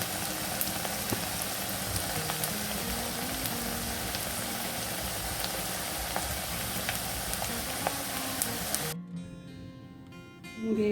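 Onions deep-frying in a karahi on high flame for crispy birista, a dense, steady rain-like sizzle running loud and close, then dropping off sharply near the end.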